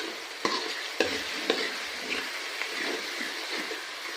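Ginger garlic paste fries in hot oil for a village-style paneer curry, giving a steady bright sizzle with a few sharp stirring knocks and scrapes of the spoon against the pan. No one speaks.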